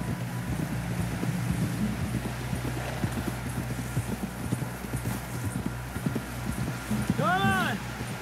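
Steady clip-clop of horse hooves at a trotting rhythm under wind noise, with a brief whinny near the end, from the video game Red Dead Redemption 2.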